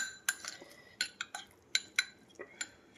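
A spoon scooping oil in a home kitchen, a run of light, sharp metallic clinks against a dish, spaced irregularly and fairly close, with no voices.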